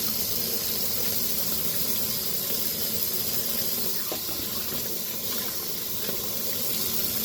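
Tap water runs in a steady, hissing rush, constant and fairly loud for the whole stretch, with no voices.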